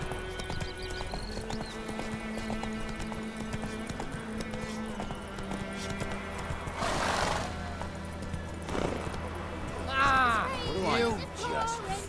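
The horse Roach gallops in the video game The Witcher 3, with fast, steady clip-clop hoofbeats running throughout, a loud neigh near the end, and voices talking faintly underneath.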